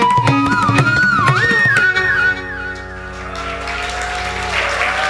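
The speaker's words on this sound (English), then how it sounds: "Another round of applause for our esteemed musicians here this evening." Audience applause for the accompanying musicians at a Bharatanatyam arangetram, a dance debut recital, with steady clapping rising under sustained instrumental tones that ring on, then fading into a quieter wash of claps and room noise.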